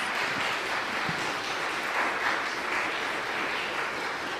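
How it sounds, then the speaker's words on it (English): An audience at a church piano recital applauds steadily throughout, a dense even wash of clapping at moderate level with no talk. "let's hear one last round of applause for our Monday 4:30 class."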